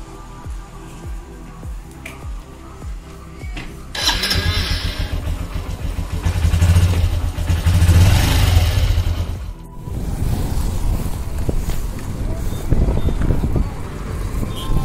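A motorcycle engine idles with a steady ticking pulse, then revs up and rumbles loudly while riding, the drone rising and falling over road noise for most of the stretch.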